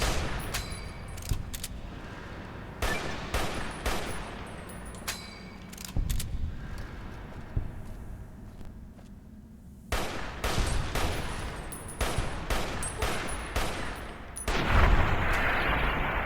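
Shotgun blasts in Fallout New Vegas as geckos are shot, with repeated loud booming reports in irregular clusters and dense bursts of gunfire throughout the stretch.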